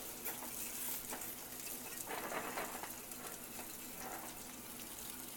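Sauce with olive oil cooking in a pan as it gets a gentle stir, a faint soft sizzle with a few quiet scraping strokes.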